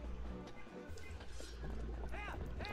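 Horse hooves clip-clopping at a gallop in Zelda: Twilight Princess, a steady rhythmic beat under a talking voice, with a brief whinny-like sound near the end.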